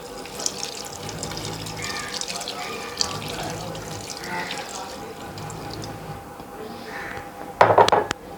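Water runs and splashes into a pot of boneless beef karahi in uneven bursts, with a few drips and clinks and a louder splash near the end.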